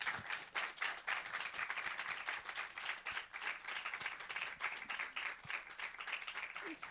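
Sustained audience applause at a forum talk on murder and mystery fiction clichés, dense clapping from a crowd that stays steady for the whole stretch, with faint voices mixed in.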